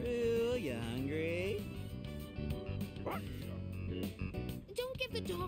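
A dog yips and whimpers in the video game Persona 3 Reload, layered over background game music with character voices speaking around it.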